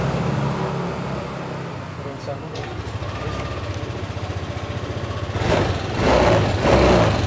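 A repaired Yamaha Aerox scooter engine runs steadily at idle with a low, even putter, rising somewhat louder toward the end, with a person talking over it.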